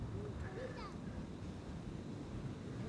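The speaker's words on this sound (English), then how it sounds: "wind has been 50 knots all throughout" Strong wind of around 50 knots at Amsterdam Schiphol airport, a faint continuous rumbling roar buffeting the microphone, with brief indistinct voice-like traces early on.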